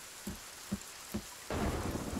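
Rain in the survival video game Sons of the Forest falls steadily around a house, with three soft thuds before a sudden louder surge of rain noise, and no voices.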